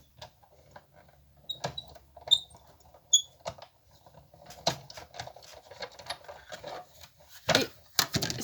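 A Big Shot die-cutting machine being hand-cranked with faux leather for earrings inside: a string of quiet, irregular clicks and ratcheting taps, with a few faint squeaks and a louder burst near the end.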